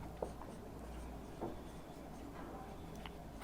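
Marker or chalk strokes on a board during a chemistry lecture on fractional distillation of air, with soft scratchy bursts and taps spaced irregularly, fairly faint against room tone.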